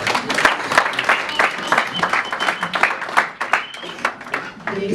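A church congregation at a New Year's Eve prophetic night service in Roubaix claps and cheers steadily for the Lord, with a busy, sustained crowd sound and voices mixed in.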